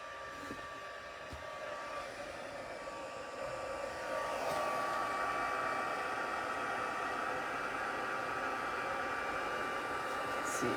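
Heat tool blowing hot air in a steady, even whoosh close by, growing slightly louder partway through and holding constant to the end, with no talk.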